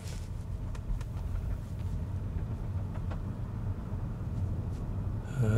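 Steady low road rumble inside a Tesla car accelerating on Full Self-Driving near a roundabout, a continuous hum with tire and motor noise throughout and a brief rise at the end.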